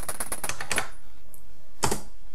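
Keys pressed on an Amstrad 6128+ keyboard: a quick run of about six crisp, close clicks, a short pause, then one more sharp keystroke.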